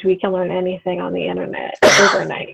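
A single loud sneeze bursts out near the end, right after a person finishes speaking in a conversational setting.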